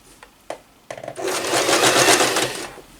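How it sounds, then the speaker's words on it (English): Sewing machine stitching round cotton fabric for reusable Christmas crackers, a couple of clicks first, then a steady whirring run that builds, holds for a second or two and then stops. "Okay, so you are simply sewing round"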